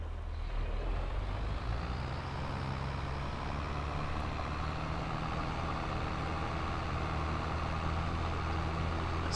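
A tractor engine runs at a steady low drone in the farming game Landwirtschafts-Simulator 22, constant and unchanging, with no talk over it.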